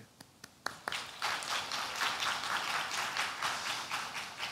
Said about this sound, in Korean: 우리 함께 박수로 축복하면서 보내드리고